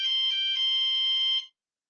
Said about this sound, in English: Sorry, that's a fire alarm.